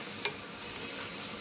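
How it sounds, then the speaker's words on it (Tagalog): Seasonings sautéing in a hot pan give a steady, fairly quiet sizzle that runs throughout, with one brief sharper clink near the start and no voices. "Yan, piprito na natin habang tayo ay nagigisa."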